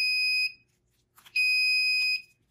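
A gas leak detector's shrill electronic buzzer alarm sounds in two long piercing bursts separated by a brief pause, loud and close, with no talking.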